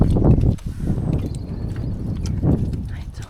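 Donkeys walking at a woodland B&B in the countryside near Witchford, hooves clip-clopping close by in a steady uneven rhythm, with someone speaking warmly over them.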